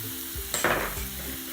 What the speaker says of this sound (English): some minced garlic, just a little bit, but I'm adding it now because if I added it earlier, it would have got bitter